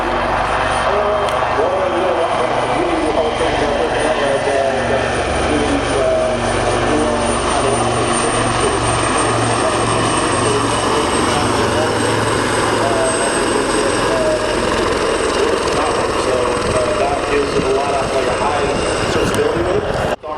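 A military aircraft roars steadily overhead at the Royal International Air Tattoo air show, a loud continuous engine drone lasting throughout, with people talking over it.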